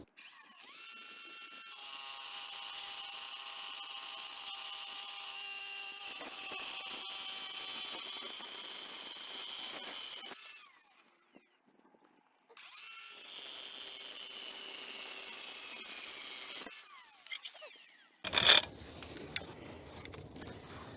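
An angle grinder fitted with a cutting disc saws through Russian-made porcelain stoneware tile, giving a steady high-pitched whine for about ten seconds, a short pause, a second cutting pass, then a sharp clatter near the end.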